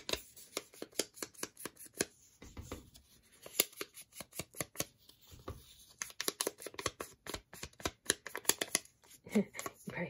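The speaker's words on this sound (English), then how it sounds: "Hear that crackling sound from the paper." Junk journal paper crackles and crinkles in quick, irregular bursts, close by, with brief pauses between clusters of crisp rustling.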